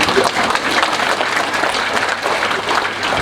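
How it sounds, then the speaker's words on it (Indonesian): A Catholic congregation claps during a sermon, a close, even roar of many hands beating steadily for a few seconds without letup. "Ini juga yang saya minta kamu tepuk tangan sebenarnya."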